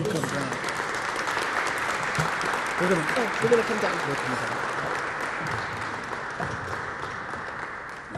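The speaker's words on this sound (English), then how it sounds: "Let's give him a round of applause." Round of applause from the audience at a Hispanic Heritage Month closing gala, a steady dense wash of clapping lasting throughout, with people talking over it.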